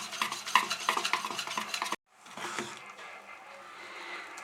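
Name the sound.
mixing idli batter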